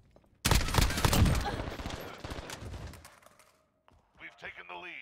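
A suppressed gun in Modern Warfare 2019 fires a fast burst of muffled, thudding shots that stops abruptly, followed by a short gap and then a voice.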